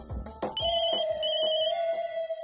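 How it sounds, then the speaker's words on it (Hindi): A mobile phone ringtone rings in a TV drama scene, a loud repeating electronic melody with steady pulses, heard alone with no talk. "देखते हैं किसका फोन आया।"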